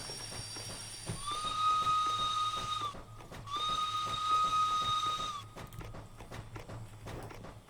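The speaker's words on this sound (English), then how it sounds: "Look, our whistle will work now." Two long, loud whistle blasts from the S060-440 steam locomotive in the Derail Valley train game, each lasting about two seconds with a brief gap between, over a low rumbling engine background.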